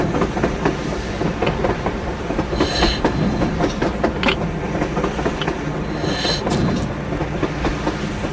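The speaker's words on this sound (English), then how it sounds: "A train! A damn train on the surface!" A train rolls past on the surface in the Metro Exodus video game, a continuous clickety-clack of wheels with rumbling and occasional metallic squeals, loud and steady throughout, with no talking.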